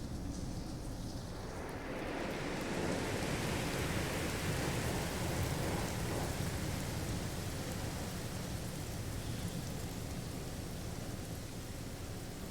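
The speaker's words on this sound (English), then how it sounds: "Storm clearing." A storm's steady, dense rain hiss fills the whole span, with low rumbling thunder underneath and no voices.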